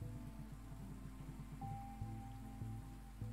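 Rain falls in a video game as a steady, even hiss of drops on surfaces, with low tonal game sounds layered beneath throughout.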